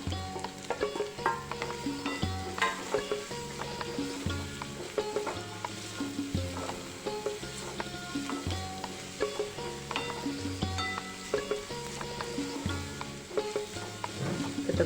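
Cabbage and green onions stir-fry for Chinese-style fried rice, a continuous loud sizzle broken by rapid, rhythmic clanks and scrapes of a spatula on the pan, close up with no talking.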